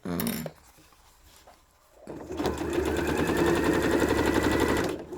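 Sewing machine stitching fabric, starting with a brief burst and a quiet pause, then running in a fast, steady mechanical chatter up close for several seconds before stopping.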